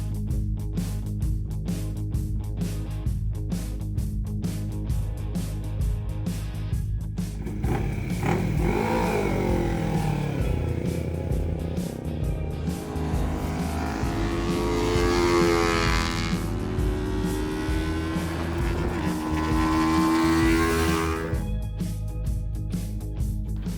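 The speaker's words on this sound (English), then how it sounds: "Yeah, it's a loud sound, but not dramatically loud." A Yamaha R3 race bike engine revs while being ridden, a loud, steady buzzing drone whose pitch climbs and falls through the gears for over twenty seconds, with no talking.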